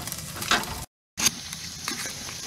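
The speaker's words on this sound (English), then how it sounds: "Frying the corn and jalapeno in the melted butter." Steady crackling sizzle of corn and jalapeno frying in melted butter in a hot pan, with a brief stir and a short silent gap midway.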